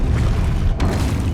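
A Depulso spell is cast in Hogwarts Legacy as a deep, booming magical blast with a brief whooshing burst partway through, loud and close.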